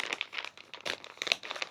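Packaging of a crochet hooks and needles subscription box being opened, giving soft, close crinkling and rustling in short bursts, quiet and without voices.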